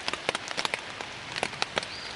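Rain patters on a forest trail at night during a thunderstorm near the Chattooga River, dense irregular drops tapping close by with no voices.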